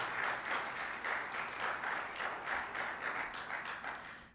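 Steady applause from a church congregation during a sermon, a dense wash of many hands clapping at moderate distance, with no speech over it.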